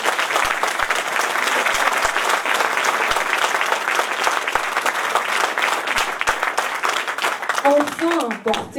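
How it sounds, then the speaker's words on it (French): Audience at a political rally in Allauch with Marion Maréchal-Le Pen breaks into loud, sustained applause, dense clapping filling the whole stretch, with a few voices rising near the end. "vous pouvez l'applaudir"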